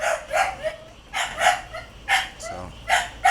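Pitbull puppies bark in short, sharp yips and bow-wows during feeding time at a farm, several bursts in an irregular rhythm, close and fairly loud with no talk over them.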